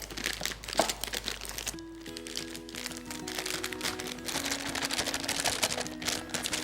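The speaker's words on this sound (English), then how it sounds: "I'm just gonna fill the bag about halfway full" Plastic pastry bag being filled halfway and crinkled by hand in a kitchen, a soft rustling and crumpling that runs steadily through the clip, close and moderately loud, with faint background tones.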